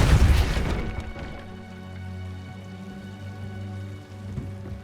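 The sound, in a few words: Depulso spell being cast in Hogwarts Legacy video game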